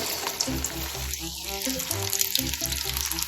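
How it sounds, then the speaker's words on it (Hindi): Lasoda (gunda) berries go into hot oil for pickle and sizzle with a steady, close, dense frying hiss that runs throughout, with faint voice-like tones underneath. "ऑयल हमारा जो है वो गर्म हो गया है। अब हम क्या करेंगे, यहाँ पे इसमें लसूड़े ऐड कर देंगे।"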